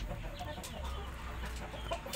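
A Japanese Chu Shamo chicken clucking softly, a few faint low clucks over a dull background hum, close but quiet.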